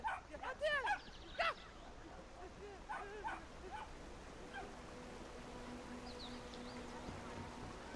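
A dog in the video game Brothers: A Tale of Two Sons gives a few quick barks near the start and then falls quiet, leaving a low steady game ambience with a faint tone and light chirps; a voice talks briefly.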